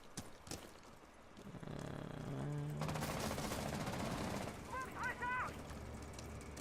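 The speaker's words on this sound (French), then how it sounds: "j'entends que ça tire de l'autre côté" Gunfire from the Rainbow Six Siege video game comes in bursts of rapid shots from the other side of the map, mixed with footsteps and other game noise.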